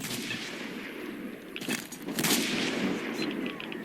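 Gunfire in the video game S.T.A.L.K.E.R.: Shadow of Chernobyl while taking on a sniper, with a few sharp, loud broadband cracks around the middle over a steady game ambience and no speech.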